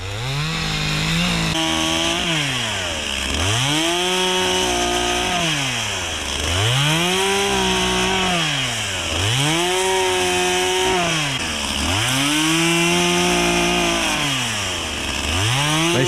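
A chainsaw cuts dry hardwood into stove-length pieces, its loud, close engine rising and falling in a steady cycle as the throttle revs up and eases off through each cut.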